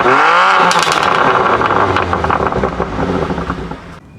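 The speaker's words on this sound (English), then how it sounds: "So as you can tell from stock, the car sounds very, very decent." A BMW M2 Competition engine with stock exhaust revs up loudly and close by, climbing in pitch and then settling into a rough, throaty idle before cutting off.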